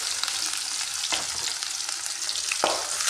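Onions and green chillies frying in hot oil for a potato cutlet, a steady close sizzle with a couple of sharper stirring scrapes, no voices.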